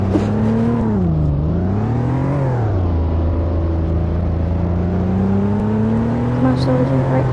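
A truck driven in an off-road video game, its engine droning continuously and rising and falling in pitch as it revs and eases off, loud and close throughout.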